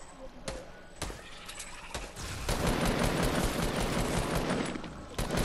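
Fortnite gunfire crackles in sharp bursts and scattered single shots, building into a denser volley midway, while players talk over the shooting.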